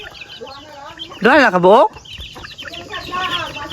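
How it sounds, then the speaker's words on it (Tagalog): Chickens kept on a family farm cluck and squawk, with one loud, wavering call rising above the rest, while people talk nearby throughout. "Dito may manok rin kami nakatago."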